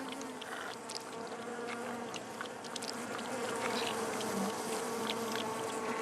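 Honeybees inside a hive, a dense continuous buzzing drone of many insects with scattered higher wingbeat flutters, steady and close throughout.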